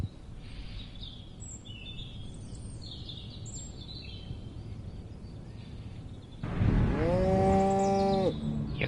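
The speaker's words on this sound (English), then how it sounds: "Clearly they've genetically altered these pathetic gas bags and turned them into radioactive exploding zombie cows!" Radioactive exploding zombie cows moo in the Destroy All Humans! Remake video game, with a single loud, drawn-out moo rising near the end over quiet ambience and faint chirping birds.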